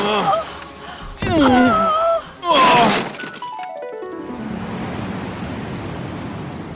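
Cartoon ocean waves wash in as a soft, steady broadband surge after a stretch of speech, a glassy shattering crash and a falling musical sweep.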